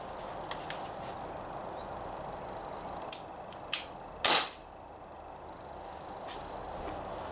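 Three sharp shots from a TT-33 CO2 gas blowback airsoft pistol firing 6mm BBs, spaced about half a second apart, the last loudest with a brief hiss, over steady outdoor background hum.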